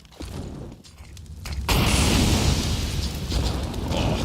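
Grenades going off during a Counter-Strike esports match at IEM Katowice 2023: a quieter stretch of in-game sound, then from about halfway a loud broadband blast that stays dense and roaring, with rumbling low end, to the end.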